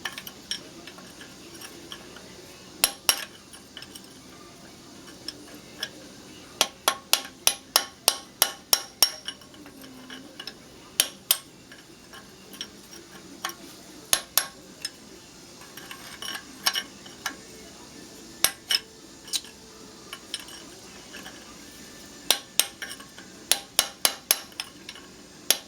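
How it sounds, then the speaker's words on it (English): Metal hammer blows strike a punch to loosen a hub nut on a Dana 44 axle from a Wagoneer, ringing out as sharp, clanging hits in quick bursts of several strikes with pauses between, close and loud, with no talking. "Just going to take the punch again, give it a few hits."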